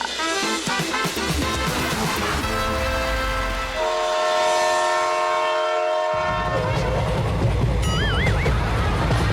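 A train horn sounds in long sustained blasts with rumbling rail noise beneath, loud and close, ending in a brief wavering whistle-like tone.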